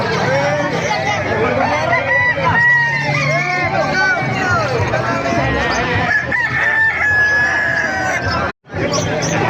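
Many roosters crowing over one another in a noisy crowd at a market in Calumpit, with overlapping calls close and far, amid chatter and bustle, ending with a brief pause.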